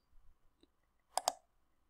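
A computer mouse clicks twice in quick succession, crisp and close in an otherwise quiet room after a faint earlier tick.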